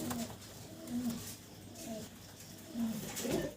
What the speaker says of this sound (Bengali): দর্শক ভিডিও স্ক্রিনে আপনারা একজোড়া সিরাজি কবুতর দেখতে পারতেছেন